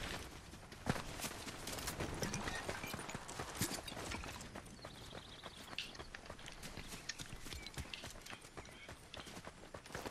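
Horse hooves clip-clop in a video game, a steady run of fairly quiet hoofbeats going on for about ten seconds with no talk over them.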